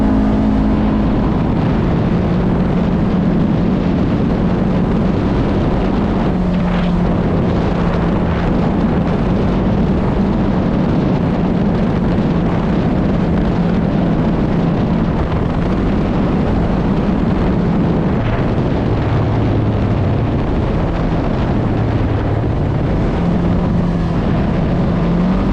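A Polaris RZR Trail side-by-side drives along a narrow wooded trail at Willow Creek in the Allegheny, its engine droning loud and continuous with the whine rising and falling as it moves over the ground.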